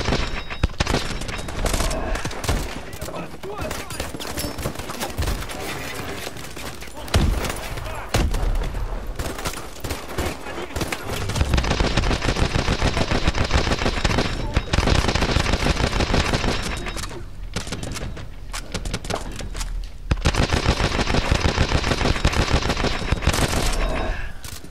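Sustained automatic gunfire in Call of Duty Advanced Warfare, dense and loud, with continuous rattling volleys and brief lulls across the whole stretch, some booms mixed in.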